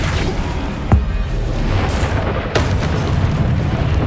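A spell impact from the Flipendo spell in the video game Hogwarts Legacy lands as a sharp booming hit near the start, followed by another thud amid steady, loud game noise with no talking.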